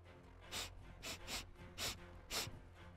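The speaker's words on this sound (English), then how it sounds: "Don't you just love breathing?" Heavy, rhythmic breathing from a character in the video game Modern Warfare 2: five or six loud, close, breathy gasps spaced roughly half a second apart over a low background hum.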